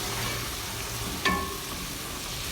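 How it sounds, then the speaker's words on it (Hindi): Ginger, garlic and onion sizzle steadily in a pan for a chana pulao, a continuous close frying hiss with one brief clatter of stirring midway and no voices. "अब इसको भी बहुत ही अच्छे से भूनेंगे कि अदरक लहसुन का कच्चापन दूर हो जाए।"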